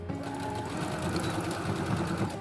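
A sewing machine runs a seam on a multipurpose toiletry bag, starting at a marked 3-centimetre line. Its motor whirs in a steady, close, continuous stitching drone with no pauses.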